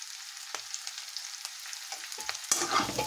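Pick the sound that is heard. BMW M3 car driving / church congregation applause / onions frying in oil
onions frying in oil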